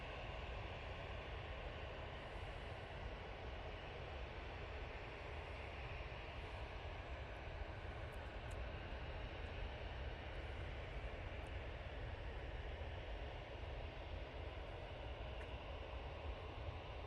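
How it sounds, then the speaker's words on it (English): An Aer Lingus Regional ATR 72 turboprop arrives from Belfast, its engine and propeller noise a faint, distant, unchanging drone that holds steady for the whole stretch. "Coming in from Belfast now with the ATR 72 for Aer Lingus Regional."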